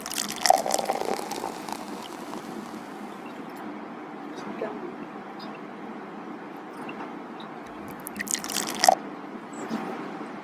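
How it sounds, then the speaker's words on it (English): Vegetable oil pours into a water bottle already holding water for a homemade lava lamp, giving a steady soft liquid gurgle with brief drip-like spatters near the start and end, close by and moderately quiet. "Step 2 is pour in the vegetable oil until the bottle is nearly full."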